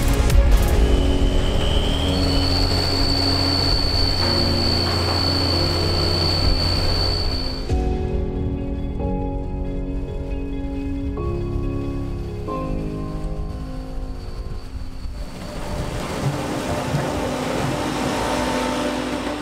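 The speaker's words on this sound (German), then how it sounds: "Nur einen Steinwurf entfernt arbeitet der Senior Heinrich Kruse mit dem Lemkin 6-Scharpflug und Packer" A tractor works a field pulling a Lemken six-furrow plough with a packer. Its engine drones steadily with tonal whines that shift in pitch, and it eases to a quieter stepped hum midway before swelling again.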